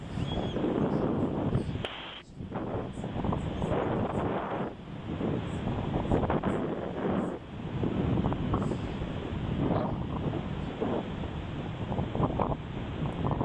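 Steady, loud wind buffeting the microphone throughout a paraglider flight, a continuous roaring rush with gusty swells and brief dips, no voices.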